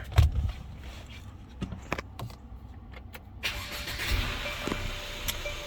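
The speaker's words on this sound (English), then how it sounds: "I'll start the car." A 2017 Mercedes GLC300 engine cranks with a few clicks and knocks, then catches and settles into a steady running hum.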